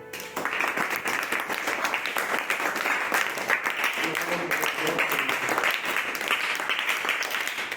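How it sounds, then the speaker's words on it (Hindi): A classroom of primary school pupils bursts into sustained applause, dense clapping that holds steady for several seconds at close range. "शाबाश, तालियां"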